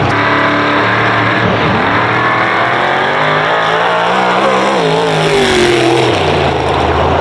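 Drag racing cars at a no-prep winter Christmas race accelerate hard down an eighth-mile track, a loud continuous engine roar with rising and falling pitch as the cars pull away over about seven seconds.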